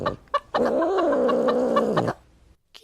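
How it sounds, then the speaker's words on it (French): A tomcat lets out a long, drawn-out growling yowl, preceded by a couple of short clucks from a hen; fairly close and clear. "Le matou commença à gronder et la poule à glousser."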